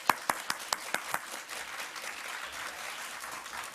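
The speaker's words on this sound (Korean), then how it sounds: "우리 감사하는 마음으로 박수로 영접하겠습니다." A church congregation applauds to welcome a pastor to the pulpit, opening with several sharp separate claps that swell into steady, moderately loud applause with no talking.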